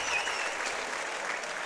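A stadium crowd applauds at a U19 men's lacrosse game between the USA and Canada on artificial turf, sustained clapping at moderate level that swells briefly and carries on without pause.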